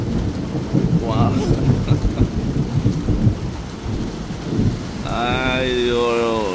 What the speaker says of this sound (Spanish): Dios sabe la nostalgia que me trae escuchar el trueno